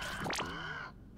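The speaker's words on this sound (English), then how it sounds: "The crow's cheering for me." A crow caws in a video game, one harsh cry up close set against a steady background bed of game sound.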